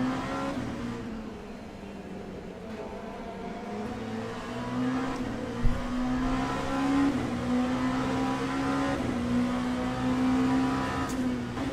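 An LMP2 prototype race car engine in the racing game Le Mans Ultimate drones and revs steadily, pitch climbing through gear changes with small dips, a continuous moderate mechanical whine with no talking.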